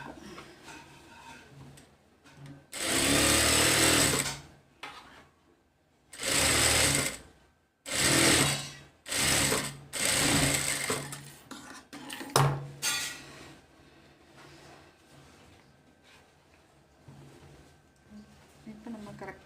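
A sewing machine stitches a cowl sleeve for an umbrella frock in several loud, close bursts of rapid whirring, separated by pauses filled with fabric handling and quieter clatter.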